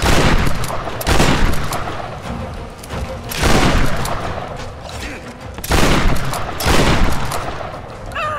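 Heavy gunfire from big guns in Tomb Raider 2013 comes in loud, booming bursts about every two to three seconds, with a rumbling mechanical din between volleys.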